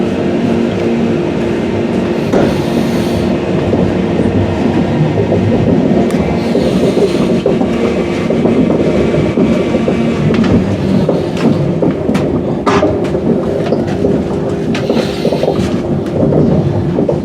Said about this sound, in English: We will shortly be arriving at Doncaster where this train terminates.